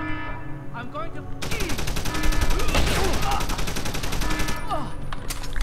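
Shotgun fire in Deus Ex: loud, sustained rapid blasts of gunfire fill most of the stretch, dense and close, with game sounds around them.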